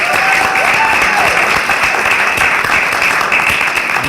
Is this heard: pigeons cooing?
no